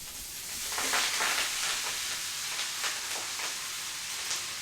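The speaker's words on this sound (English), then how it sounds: "Let the butter warm through before adding the mustard leaves." Ghee warming in a pan with turmeric for saag gives a soft, steady sizzle and hiss, close and fairly quiet, with faint crackles scattered through.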